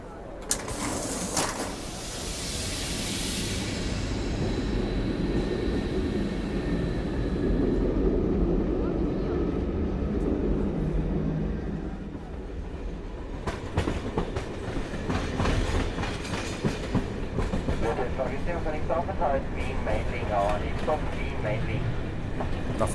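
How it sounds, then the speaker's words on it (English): Klagenfurt passenger train rolling on rails, a steady loud rumble with clickety-clack rhythm and rattling carriage noise throughout, brightening with metallic clatter in the later part; a voice speaks over it. "This is our train, the Klagenfurt train, and at least it's got a little bit of romance in its name."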